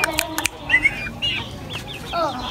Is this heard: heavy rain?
no